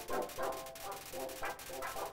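Greater Dog from the game Undertale barking: a run of about six quick, light, game-style yaps in an even rhythm, moderately loud and heard on their own.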